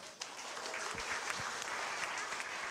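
An audience at a parody performance bursts into loud, sustained applause, a thick continuous roar of clapping throughout.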